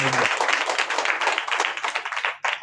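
A church congregation claps their hands together in a dense, loud burst of applause that stops briefly near the end, then starts again.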